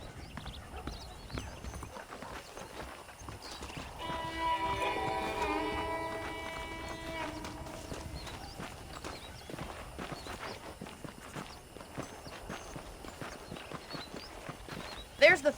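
Horse hooves clip-clop in a steady walking rhythm through a busy Red Dead Redemption soundscape, with a brief musical swell early on and a sharp knock near the end.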